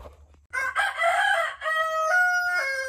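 A broody hen sitting on a nest on a homestead gives a close, loud, drawn-out squawking cluck in two sustained bursts, heard alone without talk.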